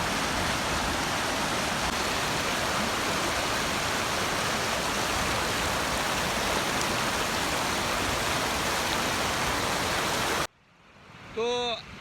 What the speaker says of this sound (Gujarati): એટલું તેજ પાણી